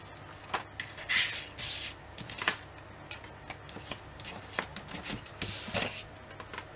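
Scraps of paper being rummaged through by hand, close and fairly quiet, with irregular rustles, shuffles and crinkles coming in short bursts and pauses.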